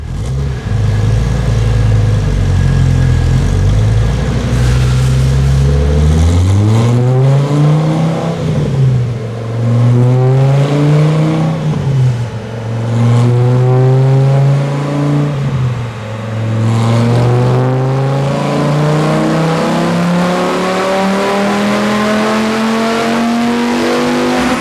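A Dodge Viper / Ram SRT10 V10 engine with a bolt-on throttle body roars loudly on a dyno, climbing and dipping through several rising rev sweeps as it accelerates, sustained and close throughout.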